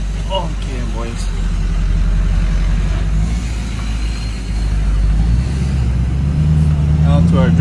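A repaired 6.0 PowerStroke diesel dump truck engine runs steadily with a deep, constant drone, close and fairly loud, while people talk over it at the start and end.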